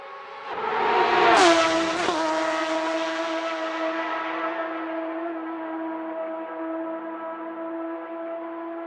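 Porsche 993 Carrera from the mid-1990s in the Assetto Corsa racing game, its engine revving hard then settling into a steady, droning tone with a gradual pitch fall; close and loud, no talk.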